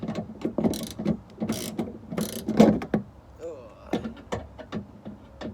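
Torx 20 ratchet clicking while removing plastic trim screws on a Vauxhall Corsa VXR, close up, with several short bursts of ratcheting and small tool and trim knocks between them.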